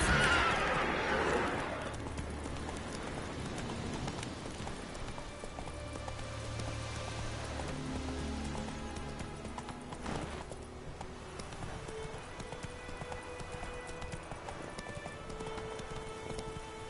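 Horse hooves clip-clopping in the video game The Witcher 3, a steady rhythmic galloping over ambient game background, loudest at the start.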